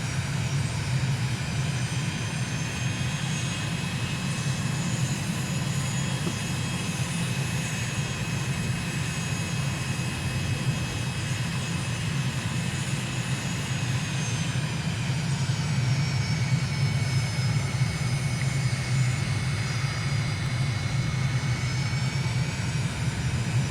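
Simulated aircraft making a slow, floaty landing approach in Microsoft Flight Simulator, engine holding a steady loud drone with a faint high whine that shifts in pitch midway, with no voices.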